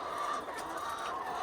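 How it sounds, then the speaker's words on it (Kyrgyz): Chickens in a 2 by 4.5 metre coop holding around 200 birds, their clucking forming a steady, busy murmur of overlapping calls close by, with no talk. "Ушул жерде 200 тоок бар."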